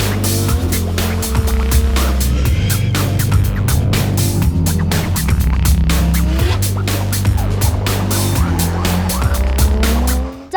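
A car drifts hard with its engine revving loudly and close while tyres squeal and shred continuously, with rhythmic pulsing revs and gravelly scrubbing throughout.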